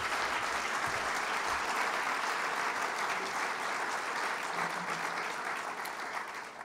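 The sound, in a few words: audience applause for Hall of Fame class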